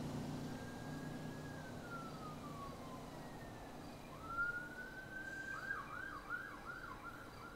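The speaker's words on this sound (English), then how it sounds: "And those are hell sirens." Sirens from emergency vehicles in the distance, one long falling wail and then a rising tone that breaks into a quick yelping warble, faint over steady background rumble.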